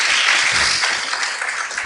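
Hands clap together in an audience during a religious teaching session, a short, loud, dense burst of applause that holds steady for about two seconds.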